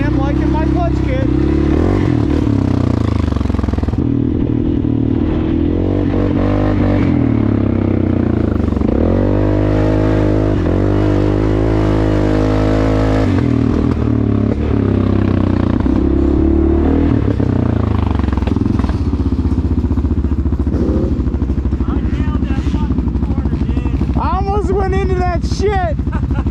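A CForce 600 ATV fitted with an RNG clutch kit drones loud and steady at top speed, its engine pitch shifting as it runs, with rattling, wind buffeting and someone talking over it.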